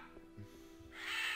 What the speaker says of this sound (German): Alter, kann die Krähe mal die Backen halten?